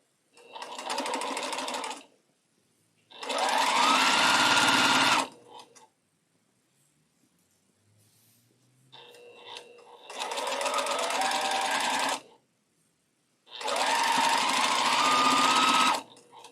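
A sewing machine stitches a quilt block of 3.5 inch squares in four separate bursts of steady, rapid whirring with short quiet gaps between.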